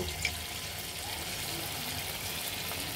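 Chicken pakoras sizzle as they fry in hot oil, a steady broadband hiss with faint bubbling crackle running evenly throughout with no talking.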